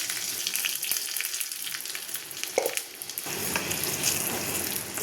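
Garlic, green chili and cumin fry in a spoonful of ghee for a tadka, a bright close sizzle with crackling spits and a brief stirring clatter, rising into a denser hiss near the end, no talk.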